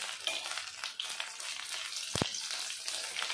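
Dried shutki fish fries briefly in a pan, giving a steady quiet crackling sizzle with one sharp knock partway through.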